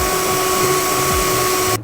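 A power drill whines steadily as it drives a self-tapping screw into the metal body of a van, a constant high motor tone up close that cuts off abruptly at the end.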